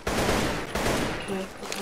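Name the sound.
AK rifle gunfire in video game Roblox gun game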